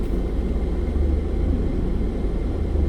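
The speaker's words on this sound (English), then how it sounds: "Oops, another big old truck." Another big truck passes close by with a loud, continuous deep rumble that holds steady throughout, and no one speaks.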